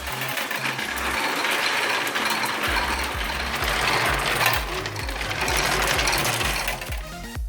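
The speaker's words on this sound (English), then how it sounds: "it requires about 150 marbles, which, like cars on an F1 track, pass on a very impressive path, rising to a height of 24 inches" Homemade marble run machine with about 150 marbles moving along a rising track, producing a dense, continuous mechanical rattle of clicking and ratcheting, loud and steady throughout with no speech.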